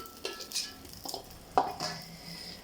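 Fried pumpkin vadi are lifted from a pan with a metal utensil, making light scrapes and clinks against the pan in brief scattered bursts, close and fairly quiet over faint background noise.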